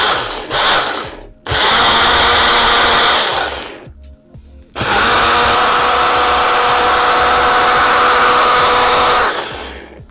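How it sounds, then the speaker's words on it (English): A blender purees kumquats, its loud roaring motor in pulsing bursts: two short blasts, a brief pause, then a long sustained run that cuts off. "What you're trying to do is really like mix up, blend, destroy the kumquat. Sometimes giving it a pulse as well."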